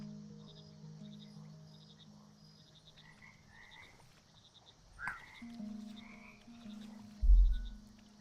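Frogs croak in the frog management sim game Mudborne, scattered croaks over a soft ambient bed with low tones, a sharp click midway and a louder thump near the end.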